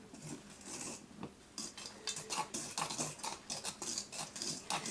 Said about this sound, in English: Using my Swedish dough hook to mix this.